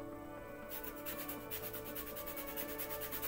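A lemon is rubbed against a zester in steady, rhythmic rasping strokes, close and fairly loud, while lemon zest is made for afternoon tea sweets.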